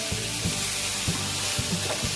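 Spices frying in oil in a pan for ginger chutney, a constant close sizzle with periodic soft knocks of a spatula stirring roughly every half second.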